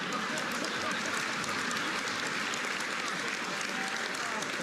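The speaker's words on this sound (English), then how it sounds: "People applauding and clapping and laughing." Audience at a press dinner applauding and laughing, a dense, steady wash of clapping and crowd noise filling the room throughout.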